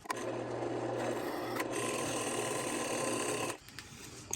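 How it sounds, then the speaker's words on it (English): Drill press boring holes, a steady grinding, rasping whir that holds for about three and a half seconds before the bit stops, leaving quiet workshop background. "Now let's drill this out on a drill press."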